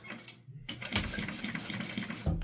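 Sewing machine stitching along a seam with backstitching, a steady mechanical whir and needle patter from close by after a brief pause near the start.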